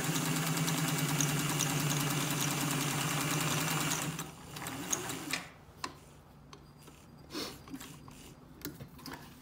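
Singer 201 sewing machine running faster, a fast, even mechanical whir for about four seconds before it slows and stops, leaving a few faint clicks and knocks.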